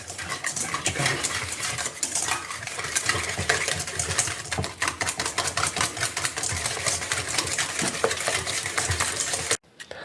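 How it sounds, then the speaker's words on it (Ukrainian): Eggs and sugar are beaten together for mochi waffle batter with a loud, continuous, rattling whir. The whir runs steadily at close range and cuts off abruptly just before the end. "Додаємо яйця. Збиваємо, додаючи туди цукор, збиваємо."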